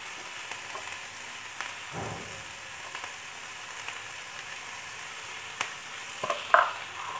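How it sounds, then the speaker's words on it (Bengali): Vegetables for a paneer roll sautéing in a pan over a medium gas flame, a soft continuous sizzle throughout with occasional light utensil taps and a brief clink near the end. "একটু সামান্য মিডিয়ামে আমি গ্যাসটা দিয়ে এটাকে একটু সতে করে নেবো।"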